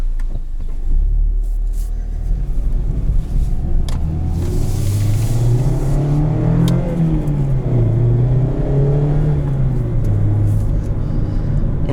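A 2020 Mazda Miata RF sports car with a manual gearbox hums from inside the cabin as it drives, its revs rising and falling through several accelerations over a low road rumble.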